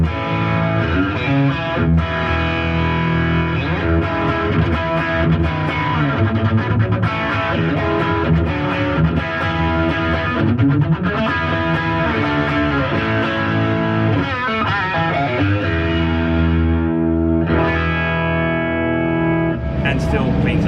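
Electric guitar played through a Bad Cat Hot Cat 50 valve amp on a high-gain channel, loud distorted chords and sustained notes ringing continuously, close-miked, with no talking.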